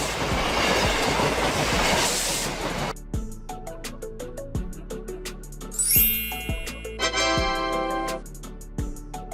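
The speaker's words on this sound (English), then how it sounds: "Electric locomotive. Locomotives that use electricity from overhead lines or a third rail to provide power." An electric locomotive drawing power from overhead lines or a third rail rolls past, with a rushing roar giving way to rhythmic clickety-clack wheel beats on the rail joints, a bright squeal, and a ringing ding.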